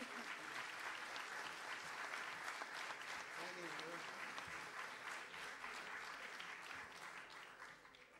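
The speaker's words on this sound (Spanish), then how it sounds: "así que un aplauso grande para el gran guitarrista Adolfo Verón" An audience at a tango performance applauds a guitarist with sustained, dense clapping that holds steady and then tapers off toward the end.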